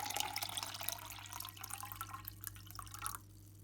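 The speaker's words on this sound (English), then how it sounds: "we're going to fill this cup about 3/4 of the way with water" Water is poured into a cup for a thirsty-plants experiment. A fairly quiet, close splashing trickle runs for about three seconds and then stops suddenly, leaving near silence.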